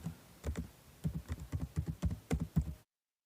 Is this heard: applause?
no